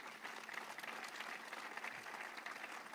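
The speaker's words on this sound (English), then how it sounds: "may we all clap in honor of our Foreign Ministry" Clapping from a crowd at an Independence Day diplomatic reception in Israel, a fairly faint and even wash of applause that holds steady throughout.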